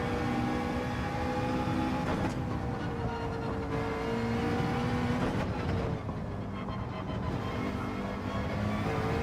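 A McLaren race car in Gran Turismo 7 drones steadily with a loud, continuous engine note that rises and shifts in pitch as it accelerates and changes gear through corners while understeering.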